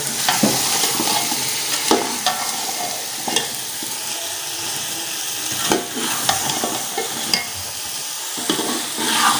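Carrot, potato, peas and cauliflower frying together in a pan, a loud continuous sizzle with repeated scraping stirs of a spoon throughout, no talking.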